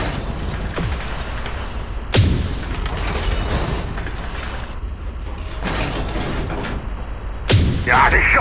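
Cannon shots from tanks in the Tank Company video game, featuring the Comet tank. Two sharp, loud blasts are spaced about five seconds apart over a steady rumbling engine and mechanical bed, with quieter impacts in between.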